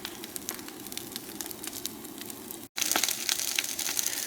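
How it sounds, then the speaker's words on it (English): A burn pile from lot clearing crackles with dense, irregular pops and snaps over a steady rushing hiss, briefly cut by a short gap before resuming slightly louder. "There's a crackling fire."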